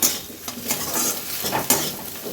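Egg bhujia (scrambled egg) frying in a pan gives a steady close sizzle, with clinks and scrapes from stirring running through it and no voices.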